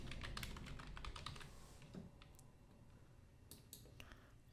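Computer keyboard keys clack in a quick burst during 3D CAD modelling work, first a dense run of taps, then a few scattered presses, faint and close with no voices.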